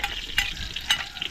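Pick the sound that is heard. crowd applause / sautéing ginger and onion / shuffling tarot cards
sautéing ginger and onion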